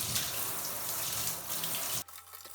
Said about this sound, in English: Lots of water.